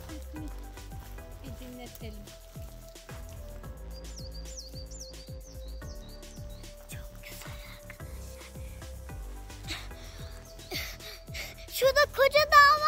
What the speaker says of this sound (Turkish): Şu kuşların sesleri bile